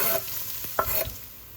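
Chopped shallots hitting warm olive oil in a pan over medium-low heat for a sauce base, giving a brief stir and a soft, steady sizzle close by, with no voices.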